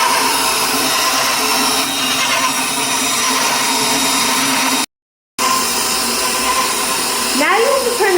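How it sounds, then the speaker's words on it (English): Stand mixer with a dough hook kneading breadstick dough, a loud, steady motor whir with a brief cut-out partway through and a faint rising whine near the end. "Now put your bowl on the mixer with the dough hook"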